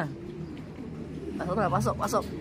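Pigeon cooing during a north summer pigeon race as a racing bird arrives at the loft, a few soft rhythmic coos close by, with people talking nearby.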